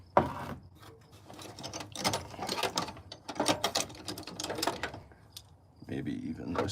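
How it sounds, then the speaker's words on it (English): Large, massive wrenches ratchet in bursts of clicking metal alongside clunks of tool handling, close by, under steady talking. "We have some massive wrenches here."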